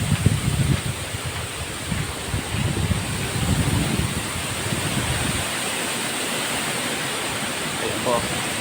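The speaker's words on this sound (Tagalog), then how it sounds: "Ang hangin, grabe. Ayan. Lakas ng hangin." Strong typhoon wind blows across a farm with bamboo, a steady loud rushing roar with gusty low buffeting on the microphone, continuing without break.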